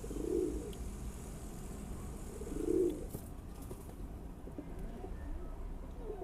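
Pigeons in a loft give low, soft coos, two distinct murmured calls a couple of seconds apart over a steady background hum, fairly faint and without speech.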